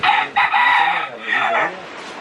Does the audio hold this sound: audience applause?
no